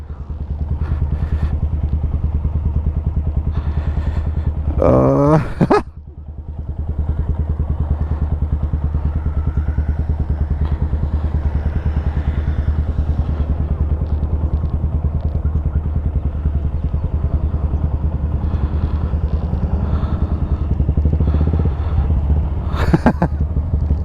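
A big motorcycle rides with a steady, loud engine drone and a little throttle applied, and a brief clattering burst in the middle.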